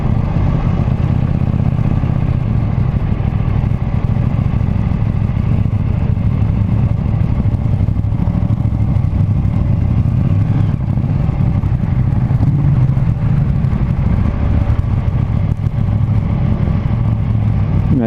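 Steady KTM Duke 790 motorcycle engine rumble while riding, a continuous loud drone with wind and road noise, no pauses or speech.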